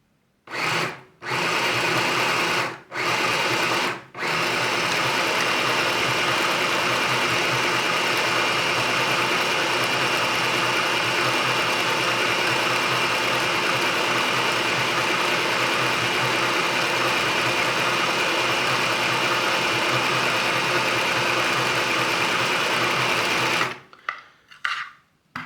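An Easymaxx sewing machine winds its bobbin with a steady, loud mechanical whir that starts and stops a few times, then runs continuously for about twenty seconds before cutting off with a few short bursts.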